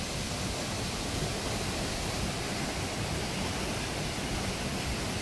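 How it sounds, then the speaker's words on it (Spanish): Waterfall at the basalt prisms of Huasca de Ocampo, a steady broadband roar of falling water that stays loud and even throughout with no voices. "Ahí al fondo la cascada."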